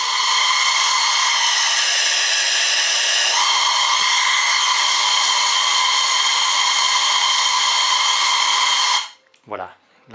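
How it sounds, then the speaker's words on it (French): Compressed air blasting through a Venturi draft tube on a model live-steam coal-fired locomotive boiler, a loud steady hiss with a whistling tone that runs unbroken for about nine seconds, then cuts off to a brief rustle. "on envoie de la pression dans le tube et on crée une aspiration par le dessus"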